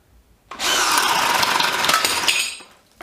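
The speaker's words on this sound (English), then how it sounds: "Bosch self-feed 32mm bit. It's a bit extreme, to be honest with you" A cordless drill fitted with a Bosch 32mm self-feed bit bores into wood, a loud, steady, grinding whir lasting about two seconds before winding down abruptly, with no talk over it.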